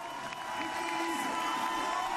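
A packed stadium of more than 40,000 spectators cheers at the 2018 biathlon World Team Challenge on Schalke, a continuous broad roar with a voice talking over it.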